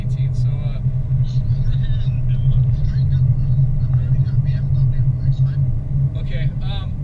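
A car drives on mountain highway 173 toward Lake Arrowhead, its steady low road rumble and engine hum continuous throughout while people talk over it.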